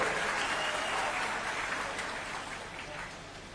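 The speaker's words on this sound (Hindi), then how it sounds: "जोरदार तालियों से स्वागत होना चाहिए इसका।" An audience at a gathering gives a speaker a welcoming round of applause, dense continuous clapping from many hands that gradually tapers off.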